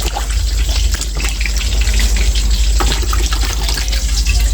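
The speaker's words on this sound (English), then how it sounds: "wash them one more time, last wash, and drop them in" Green bananas are washed in water, a loud steady rush of tap water filling and splashing in a sink, continuous and close throughout, with no one speaking.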